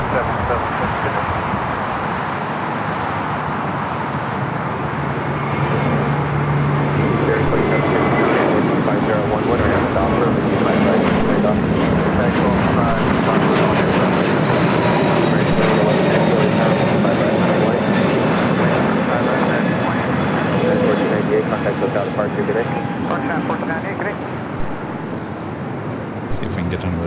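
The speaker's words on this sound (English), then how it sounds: "Emirates rolling down to 24 left" An Emirates jet rolls down runway 24 left at LAX for takeoff, a sustained loud engine roar with rising tonal whine, voices talking over it throughout.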